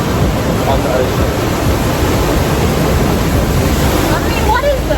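Ocean surf washing into a rock pool on Nusa Penida, Bali, a loud continuous roar of water heard up close, with brief faint voices near the end.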